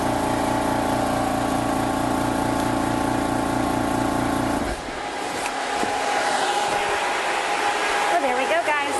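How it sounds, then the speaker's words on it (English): An Air Venturi GRiP personal HPA compressor for filling air tanks runs with a steady, loud motorized whir and pulsing drone, then shuts off partway through, leaving quieter hissing and faint rustling. "So turn the compressor off."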